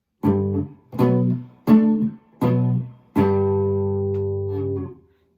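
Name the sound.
guitar power chords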